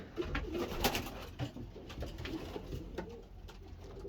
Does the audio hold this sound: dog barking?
no